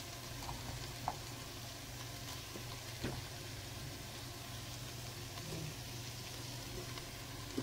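Ginger, onion and lemongrass fry in a pan with a soft, continuous low sizzle, a few light stirring clinks and a faint background hum, and no voices.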